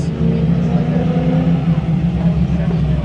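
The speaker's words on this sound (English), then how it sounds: "Got Camaro backing up." A Chevrolet Camaro backs up at a car meet, its engine a steady low rumble close by, with people talking around it.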